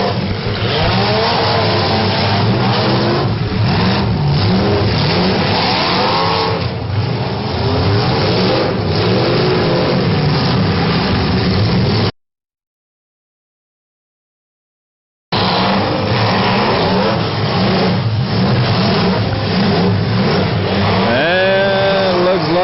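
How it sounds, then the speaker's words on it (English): Demolition derby cars at a heat, with engines roaring and revving loudly and continuously amid crowd noise, the sound cutting out briefly before the roar resumes. "Kevin and heads down to make contact with Steve Neese in the number 11."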